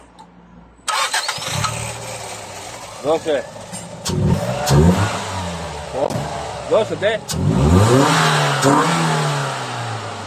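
Toyota Corolla with a newly fitted intake pipe cranks and fires, then revs repeatedly in sharp bursts that settle between each, loud and close, while someone shouts over it.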